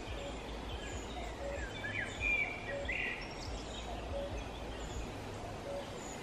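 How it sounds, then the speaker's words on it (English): Cuckoo calling far off in a forest in Lagodekhi National Park, Georgia: a faint, regular two-note call repeats at intervals under a quiet woodland background, with other birds chirping briefly nearby. "there's a cuckoo in the distance."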